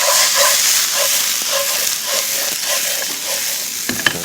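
Sea snails stir-fried in a hot pan with zucchini, potato and mushrooms give a steady loud sizzle and hiss, with rhythmic scraping stirs repeating about twice a second and a few clinks near the end, no talk.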